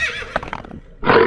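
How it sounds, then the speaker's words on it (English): A toy horse lets out a bright electronic neigh, a loud whinnying call followed by a short burst of noisy sound near the end. "horse,"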